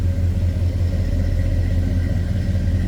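A 1970 Chevrolet C10 pickup with a 5.7-liter Vortec 350 V8 and Hedman headers idles steadily, giving a loud, even, low rumble with a regular exhaust pulse and no voices.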